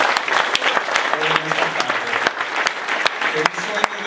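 Applause for a newly married couple at a wedding, a dense steady clapping from the guests with sharp individual claps standing out and some voices mixed in throughout.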